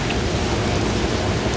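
Steady rain pours down continuously, a dense, even hiss that fills the whole short stretch with no pauses or voices.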